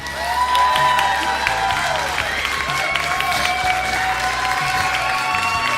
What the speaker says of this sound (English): We can applaud from Brazil, please.